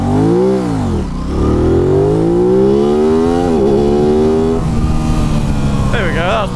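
A 2023/24 Aprilia RS 660 sport motorcycle launches hard from a standstill, its engine whine climbing in pitch through several quick upshifts, loud and close throughout.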